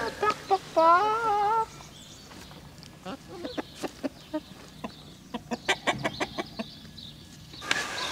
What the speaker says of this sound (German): die Hühner freuen sich immer sehr, wenn Mama gekochte Kartoffeln vorbeibringt